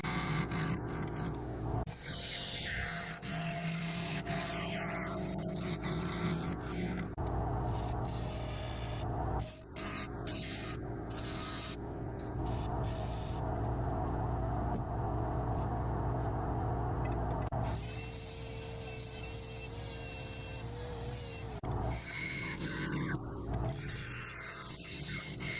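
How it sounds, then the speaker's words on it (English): Wooden bowls are sanded on the inside with a steady, dense rubbing whir that runs nearly unbroken, with a brief dip partway through and a shift in tone near the end. No one speaks. "I'm going to work through the inside of all of the bowls, finishing them off, finishing the rims, sanding them, and applying a finish"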